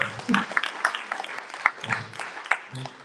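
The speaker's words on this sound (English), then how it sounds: "round of applause for Dave, Ben, and Renee" Light, scattered applause from a small audience at a panel discussion on blockchain oracles and DeFi, with voices and talk mixed in.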